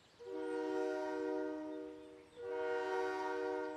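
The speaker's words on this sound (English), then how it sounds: "It's coming. The train is coming." A toy train's horn blows in two long, loud, steady blasts separated by a short pause as it approaches, close by and with no voices, in the cartoon Noddy in Toyland.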